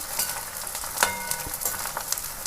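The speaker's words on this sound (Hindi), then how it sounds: "ये दोस्तों देखिए गोंद हम तल रहे हैं घी में।" Edible gum (gond) fries in hot desi ghee, giving a continuous close crackling sizzle with scattered pops and the occasional scrape of stirring.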